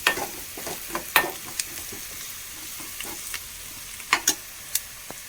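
Chopped onion, half a large onion and chili sizzle and fry in a pan. Soft, steady crackle with a few sharp pops and stirring scrapes, quiet and close, no voices.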